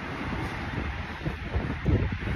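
Gusty outdoor wind buffeting the microphone, a steady low roar with stronger rumbling bursts toward the end and no speech.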